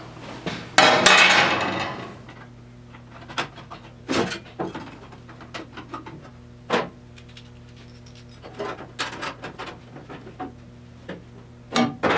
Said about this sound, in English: So now we're gonna use our clamps.